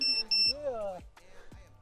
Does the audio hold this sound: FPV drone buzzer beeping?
yes